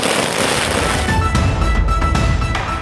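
Firecrackers burst continuously at a DMK party celebration procession in Thiruvottiyur, Chennai, a dense loud crackling barrage of rapid pops and bangs with no gaps, close by and outdoors.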